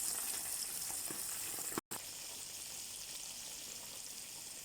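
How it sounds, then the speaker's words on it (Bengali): Fish coated in spice mix fries in hot oil, giving a steady, dense sizzle that runs almost unbroken. A brief dropout cuts it near the middle, and no voices are heard. "মাছগুলোতে মশলা লাগামো, তারপরে ফ্রাই করবো"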